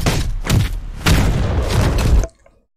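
Heavy booming grenade explosions in the video game Titanfall 2, several loud bursts rolling together for about two seconds before cutting off abruptly into near silence.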